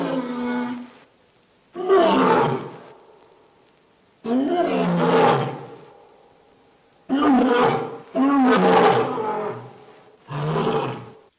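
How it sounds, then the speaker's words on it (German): A lion roars in a series of deep, powerful calls, each a long rumbling bellow followed by pauses, loud and close, in a safari park enclosure. "So hört sich das also an, wenn der Löwe hungrig, wütend oder eifersüchtig ist."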